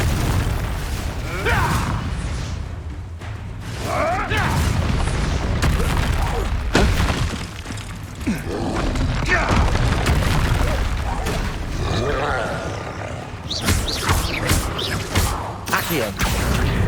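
Confringo blast spells fired during a wizard duel in Hogwarts Legacy, with repeated booming explosions and thuds over continuous spell effects and battle noise, some voices heard in the mix.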